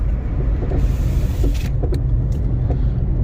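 A 2012-or-later Chevy Sonic's low road rumble fills the cabin, broken by a few short clunks or pops from the front suspension at irregular intervals.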